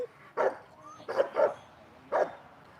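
Protection dog in bite training barks several loud, close, sharp barks in an irregular series, with short pauses between them and no talking over them.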